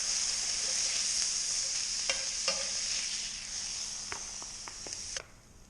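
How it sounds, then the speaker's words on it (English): Sausage frying in a small skillet, a steady bright sizzle with a few sharp spatula clicks and scrapes close up, and no talking. "cooking the sausage up here"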